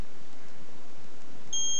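A wireless oil tank level alarm starts beeping as the tank fills to full. After a quiet stretch of faint hiss, a sharp, steady electronic tone cuts in near the end and continues without talk.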